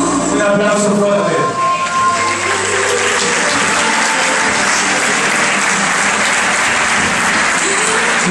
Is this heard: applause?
yes